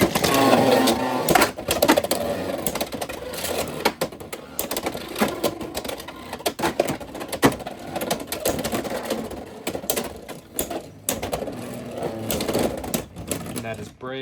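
Beyblade X spinning tops clatter and collide in a plastic stadium, making dense, rapid rattling and clicking with sharp impacts throughout. A voice talks over the battle.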